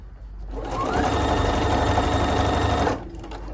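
A sewing machine stitches along a fabric dress panel, a fast, steady whirring rattle that starts up, runs evenly for about two seconds close by, then stops abruptly, with no talking.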